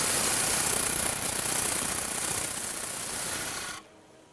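A wood lathe spins a workpiece while a tool tears across the end grain, making a loud, dense, continuous rasping roar close by that cuts off abruptly near the end.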